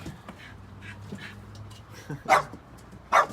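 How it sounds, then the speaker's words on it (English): A dog lets out two sharp, loud barks close by, following some quieter whimpers and yips amid background talk. "vicious guard dog."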